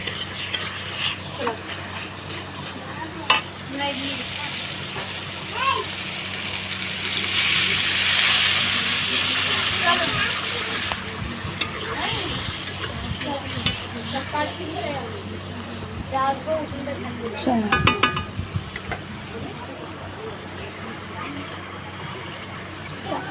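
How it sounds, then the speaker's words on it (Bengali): Potatoes sizzle as they fry in a pan, with repeated stirring scrapes and clatters throughout, a steady frying hiss underneath, and a person speaking over the cooking. "দেখো ভেজে নিচ্ছি আলুটাকে।"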